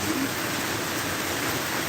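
Rain pours down outdoors around someone walking, a loud, even, unbroken hiss with no voices.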